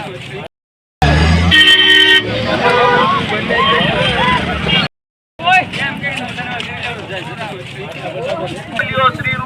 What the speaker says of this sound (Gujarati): અત્યારે એને ભાઈ ટ્રાફિક એવડી બધી તમે જોઈ લો